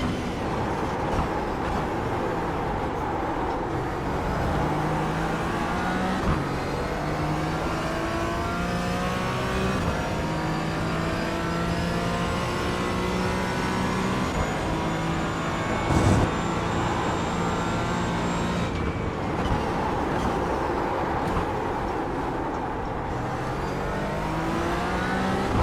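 A race car in iRacing at Daytona howls through its gears for a long stretch, engine pitch climbing with each upshift and dropping under braking in repeated cycles, loud and close with no talking.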